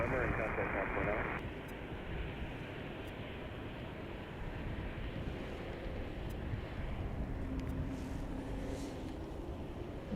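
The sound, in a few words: Swiss airliner at Chicago O'Hare airport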